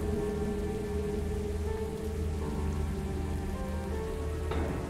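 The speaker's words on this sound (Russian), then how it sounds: "Подожди, это дождь так падает?" Rain falls in the dark fantasy video game The Last Faith, a steady hissing downpour laid over a sustained tonal music bed, even and continuous throughout.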